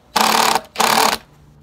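A power driver setting a screw into a wooden Adirondack chair repair piece, two loud whirring bursts of about half a second each, separated by a short pause.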